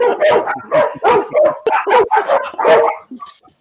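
Dogs bark in a steady run of about eight loud, close yaps and woofs over a few seconds, ending with a faint whimper, with no talk.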